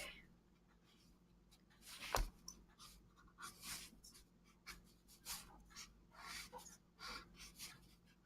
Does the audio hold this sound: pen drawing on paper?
yes